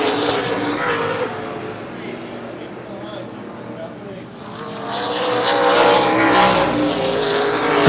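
Race cars at Baer Field Speedway during an ARCA/CRA Super Series race, a broad roaring wash of engines that fades slightly and swells again as the field passes, with a commentator talking over it.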